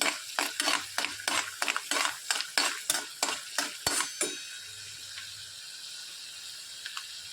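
Cashews and peanuts are stirred while roasting in a pan over a low flame, with a rapid series of a dozen or so sharp scraping, rattling strokes followed by a quieter stretch of faint sizzling.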